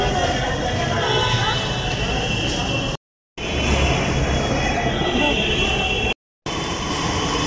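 Delhi Metro train at Karol Bagh station, a loud continuous rumble and whine of the train running close by, broken by two brief cuts, with no talk heard.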